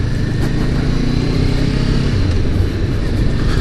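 A 500 cc motorcycle with a lowered seat, ridden through the city while engine braking, gives a steady loud engine drone with a low pulsing rumble and wind rush, no talk.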